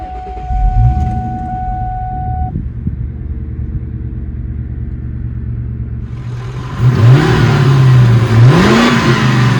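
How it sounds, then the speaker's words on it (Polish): A Ford Mustang IV Cabrio engine cranks and fires, then settles into a steady low idle. Later it revs up sharply twice with a strong exhaust roar, loud and close. "No to zacznijmy od uruchomienia silnika."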